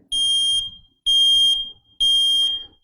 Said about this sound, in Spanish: este detector tiene una alarma que tiene un sonido de 85 decibeles.